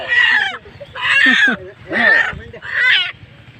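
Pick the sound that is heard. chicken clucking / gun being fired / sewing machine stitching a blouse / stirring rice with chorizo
chicken clucking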